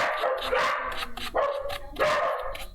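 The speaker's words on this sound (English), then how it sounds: "Oh, here comes the barking." Several dogs barking close and loud in a rapid, overlapping run of yips and woofs, the barks coming in repeated bursts with no pause between them.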